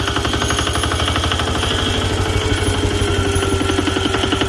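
An old Japanese Yanmar 16 hp single-cylinder diesel farm engine, the kind used for water pumps, runs loud and close with a rapid, even thumping chug and a metallic rattle, and no voices.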